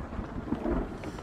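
Rumbling thunder in the Blair Witch horror video game, a low, broad roll swelling slightly midway and holding steady through the short stretch, with no talk over it.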